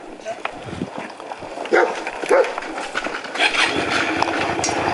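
Dogs barking and yipping at an animal shelter in Korea, several sharp barks and whimpers at moderate distance while people talk over them.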